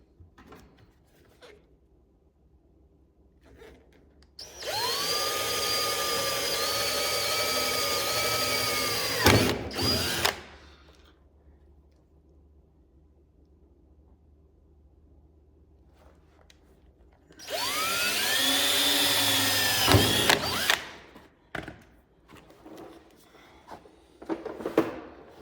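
Power drill boring a pilot hole into a 1976 Trans Am during a front spoiler and rock guard install, two sustained whining runs of about five and three seconds, loud and close, separated by quiet handling.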